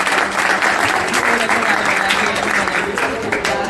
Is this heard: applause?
yes